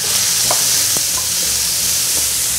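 Small dried anchovies stir-fried in hot oil with chopped cheongyang chili, a loud steady sizzle throughout with a few sharp clicks of a spatula against the pan, no voices.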